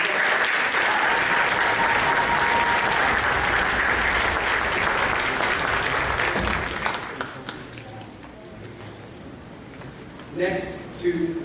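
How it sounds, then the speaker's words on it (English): A school Christmas audience gives the stage crew a loud, dense round of applause. It holds for about seven seconds, then thins to scattered claps and room murmur, and a voice breaks in near the end. "Let's give them a big round of applause."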